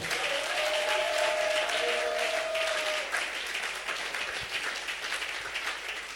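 A church congregation breaks into sustained, dense applause, loud and continuous throughout, with a faint sustained tone early on and no clear speech.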